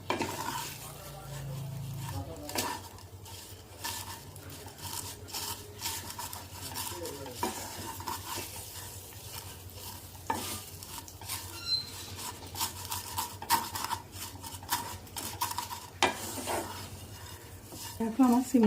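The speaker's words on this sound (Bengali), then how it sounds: "সিমাইটা আমি নাড়াচাড়া করে ভেজে নেবো একটু।" Vermicelli stirred and fried in hot ghee in a pan, with a steady sizzle and repeated scraping and clinking of a utensil against the metal, continuous and close throughout.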